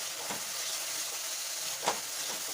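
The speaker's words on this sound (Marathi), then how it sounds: "एक चमचा धना पावडर परतून घेऊया" Ground coriander, red chili powder and turmeric frying in hot oil in a pan while cooking a green pea bhaji, giving a steady soft sizzle and hiss with a couple of faint stirring scrapes.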